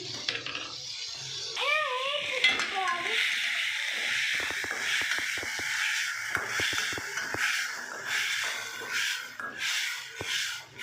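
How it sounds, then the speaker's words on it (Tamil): Tomatoes sauté in a pan for chapati noodles, giving a steady low sizzle with scattered scraping stir taps, while a voice speaks briefly near the start. "தக்காளி நல்லா வதங்கட்டும். ஒரு 5 மினிட்ஸ் வதக்கி விட்டுக்க போகிறோம்."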